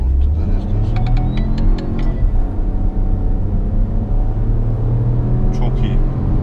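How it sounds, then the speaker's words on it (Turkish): A Peugeot 2008 with a 1.2 PureTech engine pulling away hard from about 10 km/h, a steady engine rumble rising in pitch under someone talking inside the car. "Hatta şöyle yavaşladık bir yerinden ani kalkışını deneyelim."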